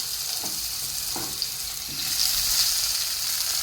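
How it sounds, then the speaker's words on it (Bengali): Brinjal frying in leftover fish-frying oil, a steady close hiss of sizzling that swells louder halfway through, with a few faint utensil taps early on and no talking. "মাছ ভাজার তেলেতে আমি বেগুনটা দিয়ে দিলাম।"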